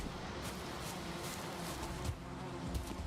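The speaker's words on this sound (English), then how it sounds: "Oh, a bee." An in-game bee buzzes steadily through this short stretch in a Valheim forest, blending with a low ambient game hum. It stays moderately loud throughout with no pauses.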